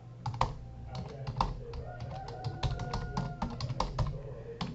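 Typing a username on a computer keyboard, with a steady run of distinct key clicks and taps at close range over a low background hum, with no voices.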